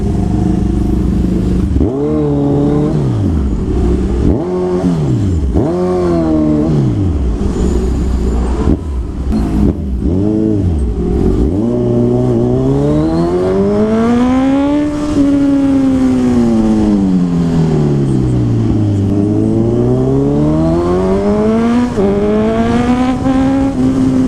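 Motorcycles, including a Kawasaki, ride through slow, narrow-road traffic on a Laguna highway, their engines revving up and down in repeated rising and falling sweeps, loud and close, with passing vehicles around.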